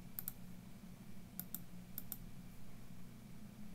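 A computer mouse clicks in quick pairs, three double-clicks spaced across a quiet room with a low hum beneath, no voices.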